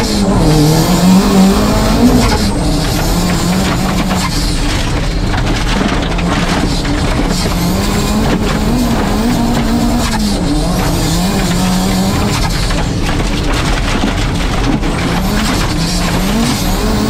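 A MiniWRC rally car runs a timed test lap on a short track, its engine revving loud and close with constant rising and falling pitch through gear changes, tyres squealing and skidding on corners.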